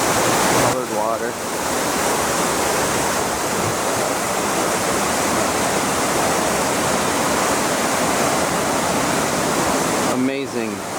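Fountain water splashes steadily at Plaça d'Espanya in Barcelona, a loud, continuous rushing wash with brief voices heard near the start and end.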